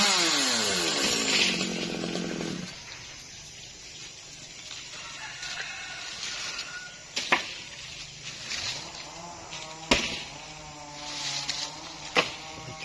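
G4500 chainsaw cutting a very large dipterocarp tree near Ba Chuc market, its engine revving high at first then dropping to a lower idle, with scattered sharp knocks and cracks of wood later on.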